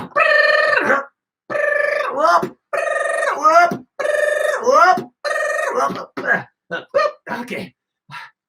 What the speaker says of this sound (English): Whoa, the mystery phone.